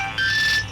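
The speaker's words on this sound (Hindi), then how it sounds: "सोनू भैया, किसका फोन है?" A brief electronic phone ringtone, a bright tonal chime lasting under a second, heard close and clear with no talking.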